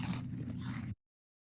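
Someone bites into a crunchy bell pepper close to the mic, one brief crisp crunch lasting under a second before it cuts to silence.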